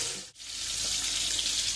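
Water added to a hot kadai of garlic paste while cooking fish bhuna gives a steady, close, full sizzling hiss that dips briefly near the start and then continues evenly.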